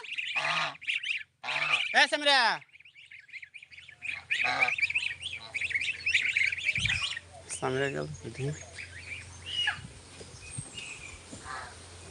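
Domestic ducks at a village home, two recently caught and one with a fresh brood of ducklings, give a few loud, harmonic honking calls up close, then more scattered quacks over a low steady hum.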